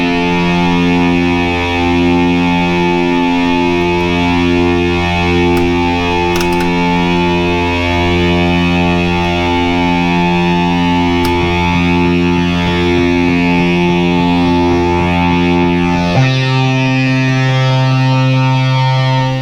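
A Minimoog synthesizer sustains a loud, distorted, harmonically rich drone, its LFO modulation pulsing it in a steady ticking rhythm before the pitch shifts near the end.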